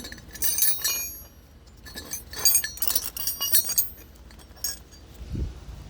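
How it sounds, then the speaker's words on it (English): A 10mm wrench being fitted onto a brake bolt while changing a seized brake rotor, bright metallic clinks and jangles in several quick bursts, close and fairly loud, ending with a low thud. "You just put a 10mm wrench on there, and it goes right there"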